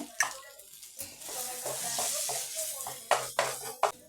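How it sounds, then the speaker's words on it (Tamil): Potatoes and masala sizzle as they are stirred in a pan for an egg veg puff filling, a soft frying hiss broken by several sharp spatula knocks against the pan, with faint voice sounds in the background. "இப்போ உருளைக்கிழங்கு சேர்த்து இதை வதக்கி கொடுப்போம்"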